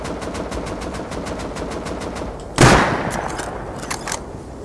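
Rapid automatic gunfire in the survival video game Rust rattles in a steady, fast stream, then a single louder, heavier blast cuts through before quieter scattered shots continue.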